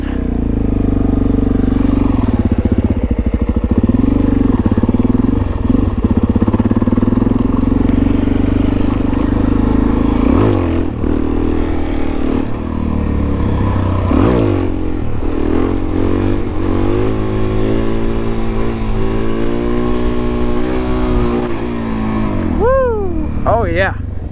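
Suzuki DRZ400 dirt bike on a trail, its single-cylinder engine revving up and down through gear changes close to the rider, with wind noise and a rider speaking at times.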